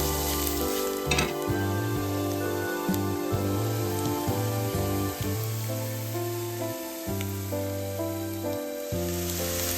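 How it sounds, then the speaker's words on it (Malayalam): Ground turmeric and chili powder sizzle and fry in a hot pan, stirred steadily for a restaurant-style chicken roast, with a continuous close crackle and occasional scraping over a low tonal backdrop. "നമുക്ക് ആ സ്പൈസസ് കുക്കാവട്ടെ കേട്ടോ"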